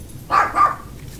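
Two quick barks from dogs in the video game Dragon Age Inquisition, a short double bark at moderate distance over a quiet background.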